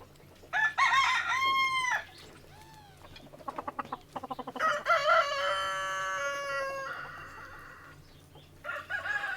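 On a farm, chickens cluck in short, busy bursts while a rooster crows loudly and close by, one long drawn-out call carrying through the middle, with more clucking and another crow starting near the end.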